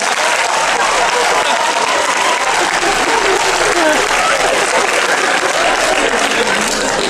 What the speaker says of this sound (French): Faut applaudir Mathéo, je crois, quand même, ce soir.